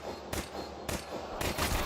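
Gunfire in a Counter-Strike match, with several rapid bursts of rifle shots fired in quick succession, crisp and moderately loud over a steady background of game ambience.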